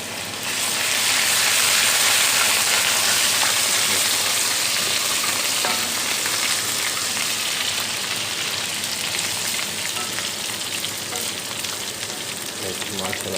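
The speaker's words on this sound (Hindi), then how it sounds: "इसमें डालेंगे हम अदरक लहसुन का पेस्ट।" Ginger-garlic paste frying in a pan with browning onions, a loud, dense, continuous sizzle close up, with occasional faint stirring.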